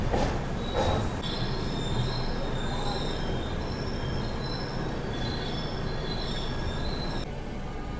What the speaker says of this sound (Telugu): మన ట్రైన్ వచ్చేసి విజయవాడ జంక్షన్ నుంచి అయితే బయలుదేరిపోయింది.